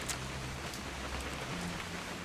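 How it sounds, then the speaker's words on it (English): Steady, soft rain falls in the video game What Remains of Edith Finch, an even wash of drops heard alone with no talk. "It's gonna rain the whole weekend, isn't it?"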